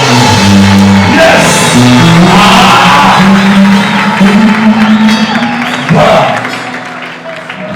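A crowd at a Congolese miracle healing crusade roars and cheers after a man is declared healed, loud continuous shouting and applause with music underneath and a voice speaking over it.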